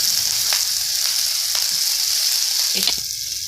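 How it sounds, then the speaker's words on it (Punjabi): Onions fry steadily toward brown in a continuous loud sizzle, with occasional stirring clicks and scrapes from a spoon in the pan. Nobody speaks. "ਆਪਾਂ ਇਹਨਾਂ ਨੂੰ ਜਿਹੜੇ ਪਿਆਜ਼ਾਂ ਨੂੰ ਭੁੰਨਦੇ ਰਹਾਂਗੇ"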